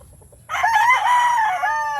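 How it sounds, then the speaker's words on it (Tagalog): An Albany broodstag gamefowl rooster of the yellow pit type gives one loud, close crow lasting about a second and a half, rising sharply out of quiet farm background noise with no talking. "Ito yung broodstag na Albany."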